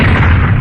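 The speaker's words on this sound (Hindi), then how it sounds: "यकाएक जोर का धमाका हुआ, कहीं बम फटा था।" A bomb blast sound effect in a Hindi radio drama, a short, loud, dense boom with a heavy low rumble filling the whole moment.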